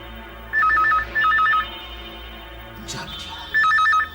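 An indoor telephone rings in short warbling electronic bursts, two quick rings, a pause with a brief clatter, then another ring, close and clear over a quiet room.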